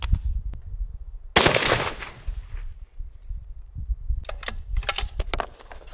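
A single sharp, loud report from a CheyTac M200 Intervention rifle cracks out early and decays over about a second, followed later by metallic clicks and rattles of the bolt being worked.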